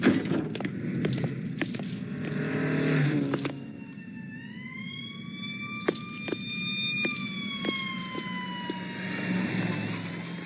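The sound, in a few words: sirens in a video game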